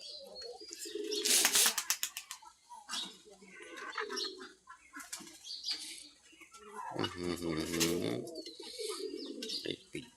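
Pigeons coo repeatedly in a rural farmyard where ducks and chickens have also been let out, the soft throaty calls rising and falling near and far, mixed with scattered chirps.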